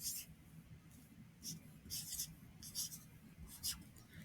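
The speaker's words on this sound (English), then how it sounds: "I'm going to go ahead and write a number at the top here" A number written by hand, heard as several short, scratchy strokes in quick bursts, close and quiet, with faint background hiss.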